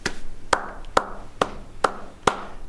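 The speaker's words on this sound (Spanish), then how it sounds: "En este aplauso chiquito está el aplauso de toda la provincia" Small applause from a lone person: five or six distinct, evenly spaced claps, close and clear, with nothing else heard.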